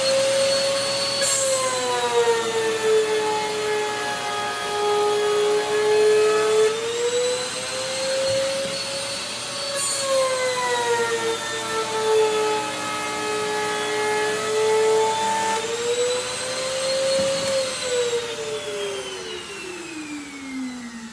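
An inverted Makita router fitted with a 3 mm bit cuts a drawer-bottom groove in wood while a shop vacuum drones alongside, the router's whine dipping and rising in repeated passes over a steady motor hum, loud and close, with no talk.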